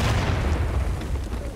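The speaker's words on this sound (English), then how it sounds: "That's a cannon." A cannon in the Civil War battle game War of Rights lets out a heavy, low boom that rolls out into a broad rumble and fades over about a second and a half, close and loud.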